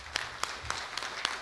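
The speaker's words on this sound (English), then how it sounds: "Let's welcome Professor Wada with your applause." Sparse applause from an audience welcoming a speaker at a tall-buildings conference in Seoul, a few distinct claps spaced through the moment over a faint room murmur.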